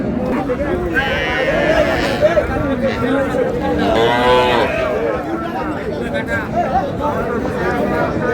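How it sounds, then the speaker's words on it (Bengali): A cow with her calf mooing at a busy cattle market, with a drawn-out low moo rising and falling over crowd chatter and nearby talking. "গাভী বাছুর।"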